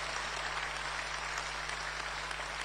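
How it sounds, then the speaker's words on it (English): Steady broadband applause from a political rally crowd honoring a national party chairman, continuous and fairly even throughout, with a low mains hum underneath and no speech. "Shall we give our national chairman another rousing round of applause?"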